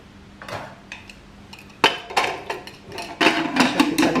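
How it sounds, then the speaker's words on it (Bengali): Metal lid being fitted onto a pressure cooker, a series of close clanks and clinks, sharper and louder toward the end, with no talk. "ঢাকনা লাগিয়ে দিলাম"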